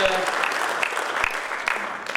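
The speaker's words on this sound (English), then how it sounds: "let's give all of us a round of applause for a successful conference" Audience applause closing a Pacific Update conference session, a dense steady patter of many hands clapping continuously in a large room, fairly loud and unbroken throughout.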